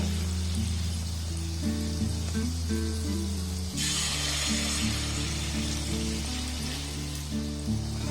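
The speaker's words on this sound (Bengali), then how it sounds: "একটা কড়াইতে যতগুলো ধরবে ঠিক ততগুলো দিয়ে আমি কিন্তু খুব সুন্দর করে ভেজে নেব" Malpua made from bread and milk frying in oil in a kadai, a steady crackling sizzle close by, continuous and even over several seconds with a faint low hum underneath.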